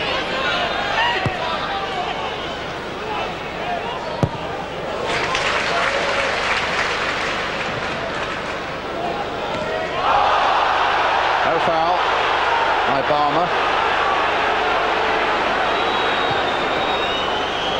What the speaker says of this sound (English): Was a great howl from the crowd